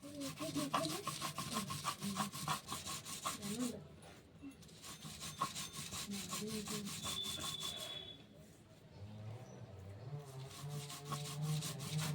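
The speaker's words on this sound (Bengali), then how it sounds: "নারকেলটা কুড়িয়ে নিয়েছি এটা বেটে নেব এবার" Grated coconut being ground into a paste by hand, a steady back-and-forth rubbing and scraping with a regular rhythm, close and fairly quiet, pausing briefly before resuming with a low hum underneath.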